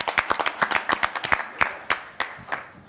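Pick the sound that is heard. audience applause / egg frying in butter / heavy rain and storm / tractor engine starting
audience applause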